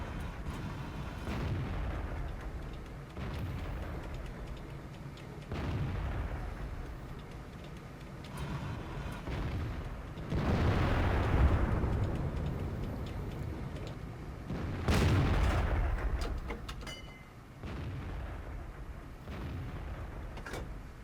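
Tank cannon fire from a T-34-85 in World of Tanks, several heavy booming shots spaced across the stretch, each rolling out under rumbling engine and battle ambience.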